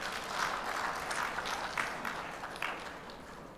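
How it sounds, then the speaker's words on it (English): Applause from a crowd at a workshop, a dense patter of clapping hands continuing steadily at moderate distance. "Huge round of applause, please."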